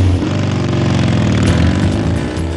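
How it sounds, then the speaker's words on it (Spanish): A motorcycle engine runs steadily and loudly close by, a continuous droning hum with a slight rise in revs and no voices. "Y se llevó su moto"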